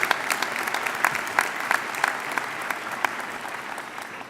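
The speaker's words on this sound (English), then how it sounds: "Let's give all the staff members a round of applause from Memorial" A high school graduation crowd at McAllen Memorial applauds the staff, a dense, even wash of clapping from a large audience with scattered louder claps, sustained throughout.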